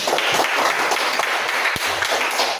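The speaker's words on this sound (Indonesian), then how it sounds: "berikan tepuk tangan dulu" An audience claps steadily in a classroom-style session, a short continuous patter of hands at moderate volume.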